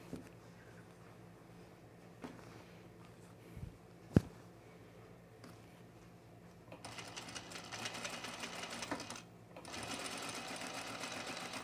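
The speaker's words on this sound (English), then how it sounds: "I'm going to stitch in the ditch on either side" A sewing machine stitches in the ditch along the binding of a 1930s-inspired blouse, a faint, low hum joined by a few soft clicks and one sharp tap, before a steadier, slightly louder run of stitching near the end.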